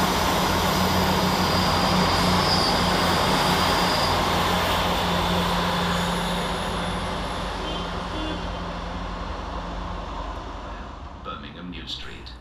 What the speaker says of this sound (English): sees the departure of 158745 and 158766 with the heavily delayed 1316 Great Western Railway service